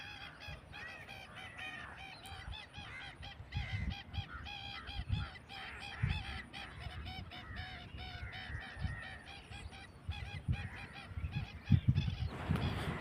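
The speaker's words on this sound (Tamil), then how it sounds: "500 கொக்கு, ஒரு 500 நீர்க்காகம் மேலே இருக்குங்க" Large flock of egrets and cormorants over a freshwater fishing spot, croaking and honking calls overlapping continuously at a distance, with splashes and rustles nearby and occasional louder thumps.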